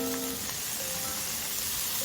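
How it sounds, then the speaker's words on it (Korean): Minced garlic, onion and blanched sweet potato stems stir-fry in cooking oil, giving a steady, even sizzle with no talking over it. "식용유를 넣고 다진 마늘을 넣고 볶고 양파를 넣고 볶아줍니다"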